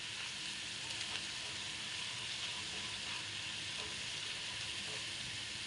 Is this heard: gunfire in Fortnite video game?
no